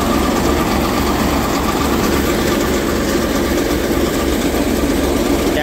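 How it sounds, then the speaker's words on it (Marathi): A paddy threshing machine driven by a tractor runs steadily, its dense mechanical drone and engine rumble continuous and loud throughout, with no speech. "ट्रॅक्टरला मशीन जोडलंय बघा तुम्ही."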